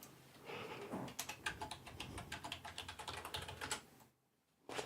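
Rapid clacking keystrokes on a computer keyboard, a dense run of close, crisp taps that pauses briefly near the end before a final key press.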